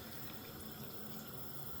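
A second pot of water is poured into a cooking pot for chicken soup, making a quiet, continuous rushing gush that holds steady from start to finish with no talking.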